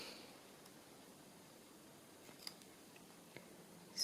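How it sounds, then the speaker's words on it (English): Scissors make a few faint, crisp snips while trimming the rounded corner of paper for a handmade bird-journal matchbook. The isolated cuts are spaced apart over a quiet background, with a slightly louder snip at the end. "Use these scissors, they work better."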